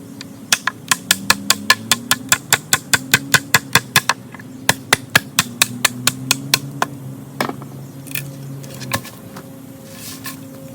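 A pine knot used as a baton strikes a knife edge to split a thin top board from a piece of wood, a fast series of sharp, close wooden knocks that slows and spaces out toward the end, with no talking.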